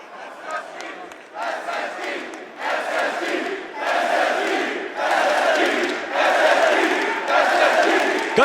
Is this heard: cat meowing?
no